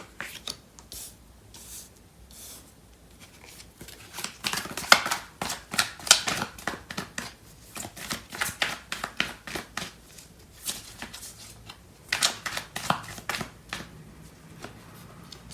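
Tarot cards shuffled by hand during a reading, a long run of quick, crisp riffling flutters and soft slaps coming in bursts, close up, with no one speaking.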